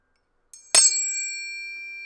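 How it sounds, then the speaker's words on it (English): Tuning forks are struck in a healing treatment, giving a soft tap followed by a sharp strike and a clear, pure ringing tone that sustains and slowly fades, close and alone. "surrounding them with the sound of the tuning forks"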